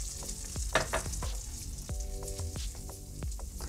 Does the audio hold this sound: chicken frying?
yes